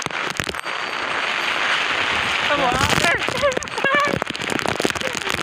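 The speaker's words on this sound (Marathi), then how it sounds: "पाऊस खूप जोरात पडत आहे" Heavy rain pours down outdoors in gusty wind, a loud continuous hiss of drops with sharper spattering, and a person speaks over it during the second half.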